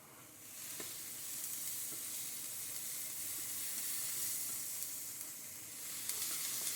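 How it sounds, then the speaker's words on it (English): Onions browning in a hot pan give off a steady, close, fairly loud sizzle that hisses continuously throughout, with a few faint clicks of stirring and no talking. "browning the onions. Make sure they get nice and caramelized and brown."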